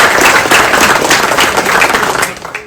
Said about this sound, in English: Clap up for Gold.